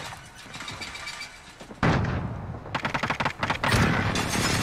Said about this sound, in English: And this is an airstrike.